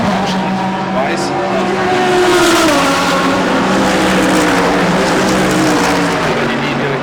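Ferrari DTM race car during Saturday qualifying at the Norisring in 2021, a loud sustained engine howl passing close with shifting pitch and tire noise, with commentary faintly underneath.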